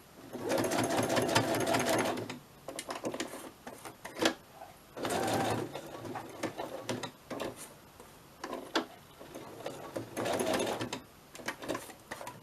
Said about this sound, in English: I'm just going to sew straight onto the pocket